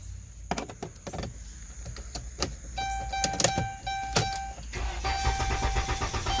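Repeated clicks and clunks give way to a whirring mechanical cranking with a high whine, a Dodge Caravan minivan engine turning over without catching, close by.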